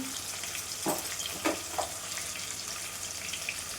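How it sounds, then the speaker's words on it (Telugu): Ginger-garlic paste masala with chili powder and salt frying in a pan while being stirred, a steady close sizzle broken by a few soft scraping stirs, with no talk. "తగినంత సాల్ట్ వేసుకుని అయితే ఒకసారి కలుపుతాను"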